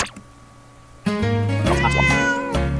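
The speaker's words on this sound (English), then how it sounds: "let's see how it works when you hear me meow" A cat meow from the audio game Rhythm Rage, heard over a steady musical backdrop that comes in strongly partway through, with a loud, clear meow sounding near the end.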